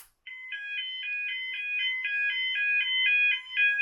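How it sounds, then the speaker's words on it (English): A level crossing alarm, switched on by a fan isolator switch, sounds a loud, steady two-tone electronic warble that pulses evenly and continuously after a brief silence. "I'm now going to sound the alarm by pressing this fan isolator switch"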